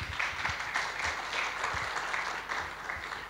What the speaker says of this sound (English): So please give a big round of applause to the government team